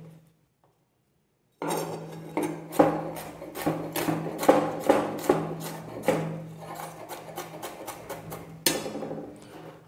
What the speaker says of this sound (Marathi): आता याला एकदम बारीक चॉप करायचं आपल्याला, एकदम फाईन.